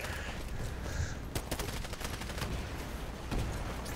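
Smart Pistol gunfire in the shooter game Titanfall, several sharp quick shots in irregular bursts over steady game noise and a dense background.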